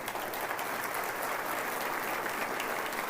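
A church congregation applauds throughout, a dense, steady wash of many hands clapping at moderate distance with no pause or voice over it.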